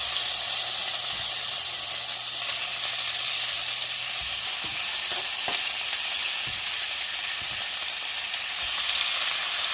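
Steak sizzles in a skillet over a little more than medium-low heat, a loud, unbroken frying hiss that lasts throughout, with a few faint clicks and pops partway through.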